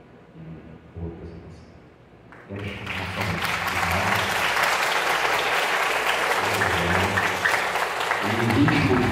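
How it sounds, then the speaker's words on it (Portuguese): Warm applause from a church concert audience for a string and choral performance, starting faint and swelling into steady, dense clapping that continues loudly to the end, with a voice speaking faintly at the start. "ainda com esses aplausos calorosos"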